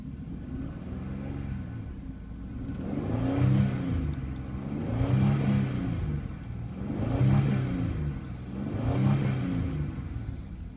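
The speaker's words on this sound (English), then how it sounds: "Revs up nice and smooth." A used 2007 Chevrolet Equinox with a 3.4 engine and 114,170 miles revs repeatedly, four smooth swells of rising and falling engine pitch over a steady idle rumble, with no talking.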